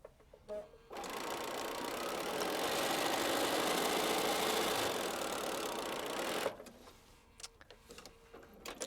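A sewing machine runs in one sustained, fast mechanical whirr for several seconds while stitching a quilt block, with quieter handling sounds and a voice before and after.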